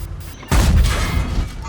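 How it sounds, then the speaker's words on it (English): A tank cannon fires in World of Tanks from a T-103 tier 8 tank: one heavy, loud boom bursts out suddenly after a quieter mechanical hum, then rumbles and fades slowly. "And we exchange shots."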